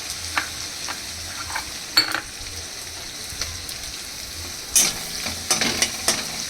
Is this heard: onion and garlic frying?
yes